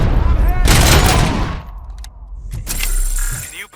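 Gunfire in the video game RoboCop: Rogue City, a loud sustained burst of rapid shots followed by a short pause, a few sharp single cracks, and then another dense volley.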